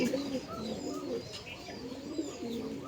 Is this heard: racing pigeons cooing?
yes